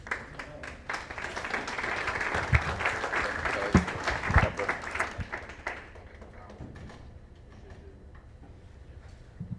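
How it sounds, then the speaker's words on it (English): Audience applause at a candidates forum, a lively spell of many people clapping with a few sharper claps standing out, which thins and dies away after about six seconds into quiet room tone. "Give them both a big round of applause"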